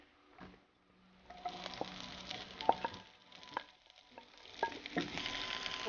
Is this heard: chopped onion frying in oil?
yes